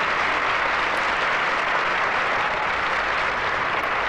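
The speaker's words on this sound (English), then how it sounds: "Applause! Hooray!" Loud, dense, continuous applause like a big crowd clapping, even in level throughout with no talk over it.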